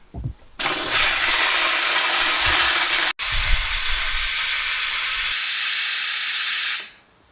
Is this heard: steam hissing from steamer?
yes